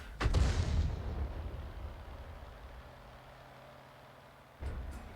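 A 105 leFH18B2 artillery gun fires in a tank video game, giving one loud, close boom that rolls off into a long fading rumble, followed near the end by a second, softer thud.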